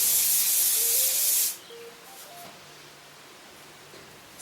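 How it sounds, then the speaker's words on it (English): Hairspray hisses from an aerosol can onto curly hair in one steady burst of about a second and a half, loud and close, then cuts off to quiet room tone. "And then hairspray."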